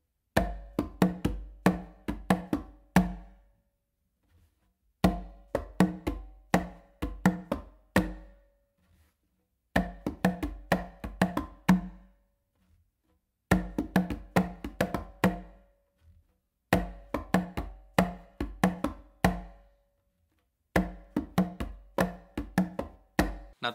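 Congas play an up-and-down beat independence pattern: six repeated phrases of sharp, close hand strikes, each a quick run of hits followed by a brief pause.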